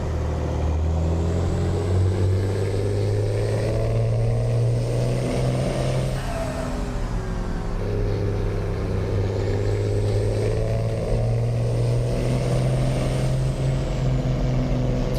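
Steady road traffic in a truck driving game, with a heavy truck's engine droning low and continuous and a brief hiss of air brakes partway through.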